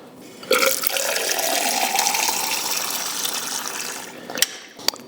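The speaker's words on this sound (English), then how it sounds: "Okay, filled up my water cup again." Water gushes from a fire hydrant into a cup, a loud, steady rushing pour of about four seconds that cuts off, followed by a couple of sharp knocks.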